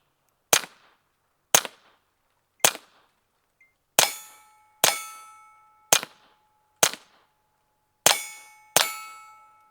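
Nine sharp shots from a Retay Arms RXP 22 pistol firing CCI Quiet subsonic rounds, several followed by ringing metallic clangs from a steel plate backstop, spaced irregularly about a second apart with no talking.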